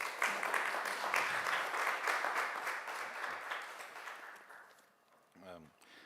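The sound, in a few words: applause for a speaker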